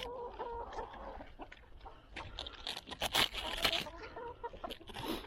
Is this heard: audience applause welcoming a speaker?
no